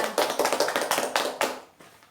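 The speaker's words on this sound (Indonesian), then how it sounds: "Beri tepuk tangan buat semuanya" Elementary schoolchildren in a sixth-grade math class clap in quick rhythmic unison, about a dozen sharp near claps, before the sound tapers off into a brief quiet.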